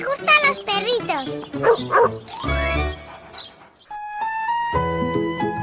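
Cartoon puppies in a Spanish-dubbed Caillou children's show bark and yip in quick, close bursts mixed with dialogue and music.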